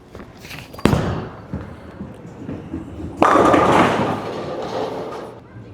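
A Motiv bowling ball rolls down the lane with a low rumble, then crashes into the pins with a loud burst of clattering that slowly fades, heard close in an alley.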